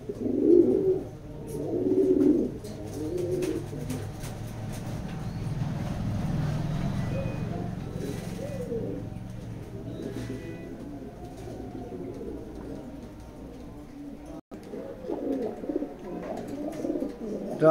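Racing pigeons cooing close by in a loft, with repeated low throaty coos coming in bursts over a murmuring background, and brief quieter gaps between calls.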